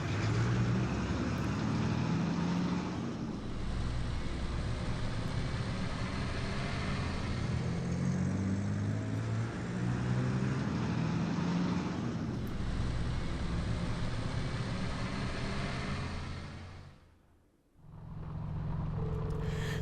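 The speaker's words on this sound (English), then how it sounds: "The cars shook and rattled over the uneven ground, tumbling us around like an iron coffin on wheels." Armored cars in a video game rumble and rattle over uneven ground toward a proving ground, a steady low vehicle drone with rough jolts that dips briefly before resuming.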